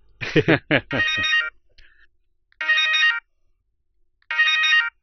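A mobile phone rings for an incoming call with a bright electronic ringtone: a quick melodic burst, then repeated short ringing phrases separated by silent gaps.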